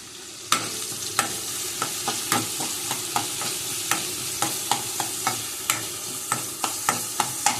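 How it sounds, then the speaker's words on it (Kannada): Food frying in a pan at home, a soft continuous sizzle broken by sharp, regular scrapes and clinks of a spoon stirring through it, close and with no talking. "ಫ್ರೈ ಮಾಡ್ಕೊಂಡು ಬರುವ"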